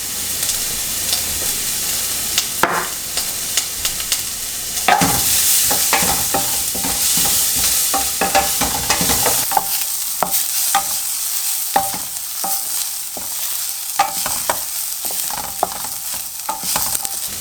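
Red onion with black pepper frying in a hot pan for a venison bolognese, a steady close sizzle with stirring scrapes and clicks running throughout, no voices.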